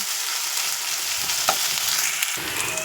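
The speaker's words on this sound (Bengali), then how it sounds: "এবারে আদা রসুনের পেস্টটা দিয়ে দিলাম, দেওয়ার পরে হালকা ভাজা ভাজা হয়ে যাবে" Ginger-garlic paste fries in hot oil in a pan for a chicken dish, a continuous close sizzle broken by a few sharp stirring scrapes, with a noticeable drop in crackle near the end.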